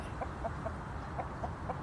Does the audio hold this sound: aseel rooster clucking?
yes